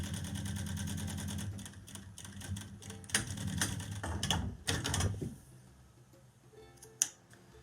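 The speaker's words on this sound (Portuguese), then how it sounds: "vou só fazer assim e costurar aqui à beirinha" A sewing machine runs fast along the edge of a fabric pouch, giving a steady mechanical whir with rapid needle clatter. It slows and stops partway through, followed by a few faint handling clicks.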